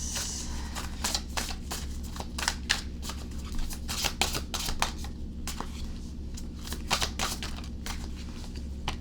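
Tarot cards being handled and shuffled to pull a single card, giving a run of close, crisp flicks and riffles over a steady low background hum, with no talking.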